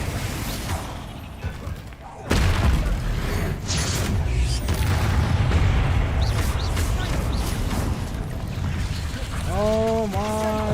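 The Bombarda spell goes off in Hogwarts Legacy with a sudden loud boom, followed by a sustained rumbling roar and scattered debris clatter, with a short vocal-like wavering tone near the end.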